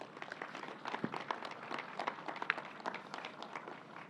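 Scattered clapping from a modest audience at a New York governor's COVID briefing, saluting nursing students and National Guard members; the dense patter runs steadily and rather faintly for about four seconds.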